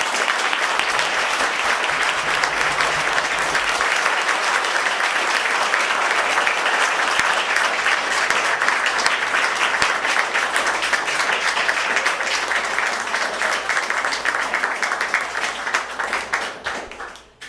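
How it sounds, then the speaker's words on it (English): An audience at a school board of education meeting applauds an honoree with dense, sustained clapping that stays loud and even for over fifteen seconds before fading away at the end. "Give her a round of applause."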